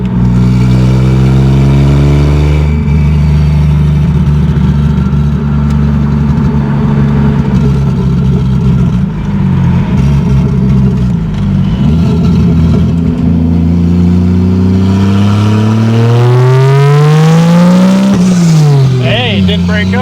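Turbocharged 2JZ-GE engine in a naturally aspirated-turned-turbo swapped MK3 Toyota Supra revving hard under boost, a loud close roar climbing steadily in pitch through the rev range, then dropping sharply and rising again near the end.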